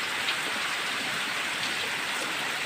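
Heavy rain pours down continuously at night, a dense steady hiss of drops on water and surfaces, close and even, with no voices.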